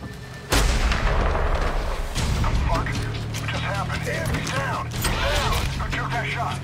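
Gunfire and heavy booms from the Medal of Honor Warfighter video game, a loud blast opening a sustained stretch of battle noise with layered shots and explosions throughout.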